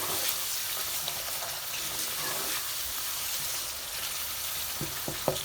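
Yogurt is stirred into a kofta curry, a soft bubbling sizzle with faint wet stirring and a few light utensil knocks near the end.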